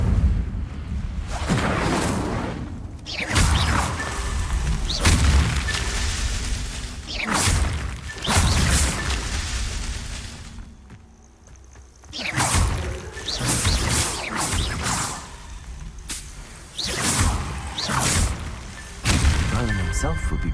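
Incendio fire spells cast in the Hogwarts video game, loud whooshing fiery bursts and booming blasts repeating over about twenty seconds, layered with a game voice and background sound.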